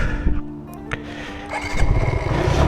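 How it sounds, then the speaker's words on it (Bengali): A 2026 Gixxer motorcycle engine cranks and catches, then runs with a loud, close rumble. "এবার বাইকটা স্টার্ট দেবে"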